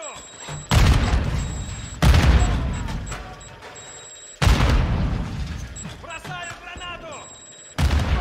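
Grenade blasts in the Warzone 3 DMZ shooter, several loud booming bursts at irregular intervals with a rumbling, crackling decay under gunfire and game ambience, and some voice chatter.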